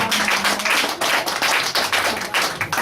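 Congregation applauding a singer during a church service, a dense steady patter of many hands clapping close by, continuous with slight swells and dips for about three seconds.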